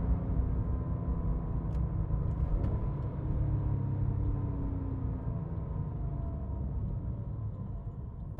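A Porsche 911 GT3 cruises along a road, its engine a steady low rumble heard from inside the cabin, fairly constant with no sharp revving.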